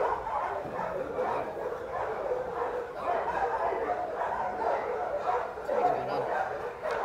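A dog on a leash during leash training barks, yips and whimpers repeatedly, mid-distance amid background noise and other activity outdoors.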